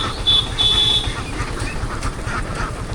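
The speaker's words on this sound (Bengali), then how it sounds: "অনেকগুলো হাঁস" Many ducks at a wetland duck farm keep up a steady, close chorus of overlapping quacks with no talking.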